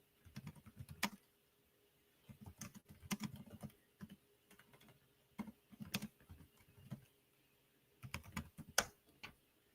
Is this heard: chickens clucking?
no